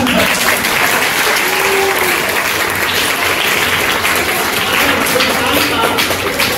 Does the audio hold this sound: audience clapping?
yes